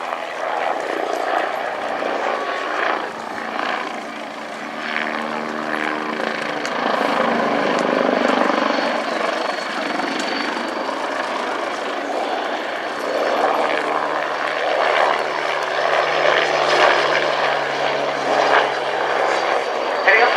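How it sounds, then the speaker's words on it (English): An Agusta A109 helicopter roars steadily nearby during a display flight at RAF Cosford Airshow 2018, its engine and rotor noise rising and falling as it manoeuvres for a long stretch. "Showing us something of the manoeuvrability of this Italian-designed and built helicopter."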